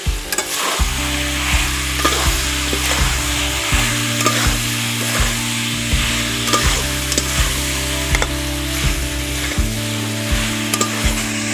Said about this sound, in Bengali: এবার ভেজে রাখা কপি আলুগুলো দিয়ে দিচ্ছি।